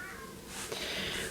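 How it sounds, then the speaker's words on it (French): A domestic cat, just let outside, gives a single faint meow in the distance over a soft background hiss. "alors maintenant il va rester dehors et miauler."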